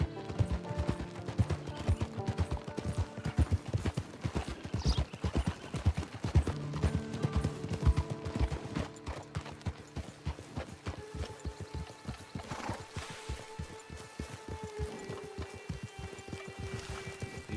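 Horse hooves clip-clopping in the Western video game Red Dead Online, a steady rhythmic stream of hoofbeats at a gallop, loud and close throughout, with no talking.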